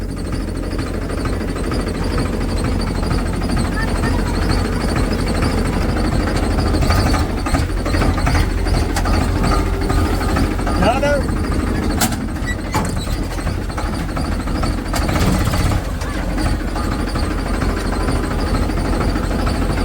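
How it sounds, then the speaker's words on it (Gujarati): Heavy JCB excavator and tractor engines rumble continuously at close range on a farm, low and droning, with occasional clanks and rattles of machinery. "એકદમ જેસીબી એકદમ ટ્રેક્ટર."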